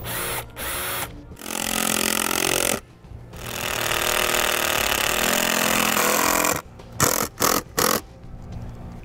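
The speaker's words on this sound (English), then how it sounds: "we'll take 2 of the Whitehead self-tapping screws and put them in to hold the awning in place." A power driver whines loudly at close range as Whitehead self-tapping screws go into an awning bracket on a 2009 Forest River Sunseeker RV, with two long sustained runs followed by several short stop-start bursts.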